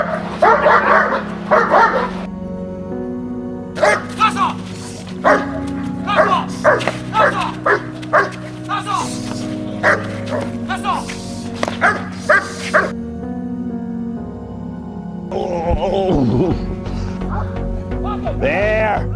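Dog barking, yipping and whimpering during a training session under defensive pressure: repeated sharp barks in clusters, close and loud, with a steady background hum and some whining near the end.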